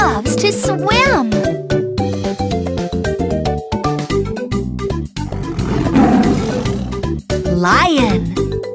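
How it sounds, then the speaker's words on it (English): A lion roars, as an animal sound in a children's animal video, heard over loud, busy background music with a rougher, noisier burst partway through. "Lion."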